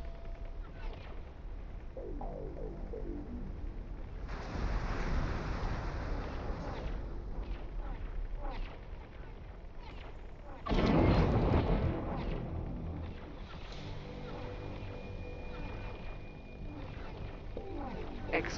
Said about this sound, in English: Shooting clear to the other side of the station.